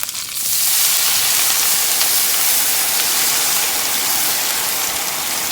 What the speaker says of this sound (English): the first thing we want to add to the risotto is some white wine